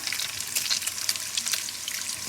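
Frozen bacon sizzles in a frying pan with a steady, bright crackle and spitting pops, close and continuous with no voices.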